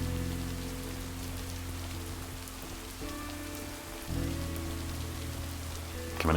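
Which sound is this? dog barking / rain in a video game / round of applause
rain in a video game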